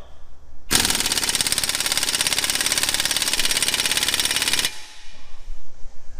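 An air impact wrench runs at about 90 PSI on a car lug nut, giving a loud, rapid hammering rattle that lasts about four seconds, then stops, leaving low background rumble.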